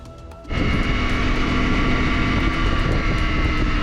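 An EasyJet airliner on the tarmac: after a quieter moment, a loud, steady engine roar swells in and holds without letup, close and dominant, with no talk.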